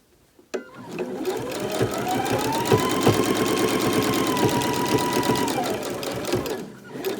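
A sewing machine stitches a face mask made from a T-shirt, running in a fast, steady, rhythmic whir for several seconds after a sharp start, close and loud, then slowing to a stop.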